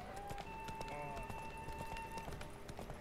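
Hooves of Roach, the horse in The Witcher 3, thud in a steady galloping rhythm throughout, mixed with game music and ambient effects, moderately loud and continuous.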